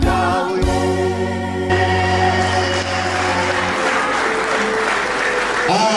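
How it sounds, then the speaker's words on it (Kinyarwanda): A church congregation breaks into sustained applause, dense clapping running throughout under a held musical chord and a voice at times. "Tugerageza amashyi nanone umushime"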